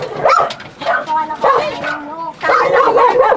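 Dog barking and yipping in bursts outdoors at a home in Manila, Philippines, fairly close and loud, mixed with people talking over it.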